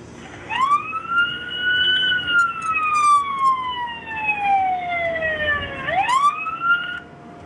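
Siren-style phone ringtone playing a rising and slowly falling electronic wail, one long sweep followed by the start of another, loud and close over faint background noise.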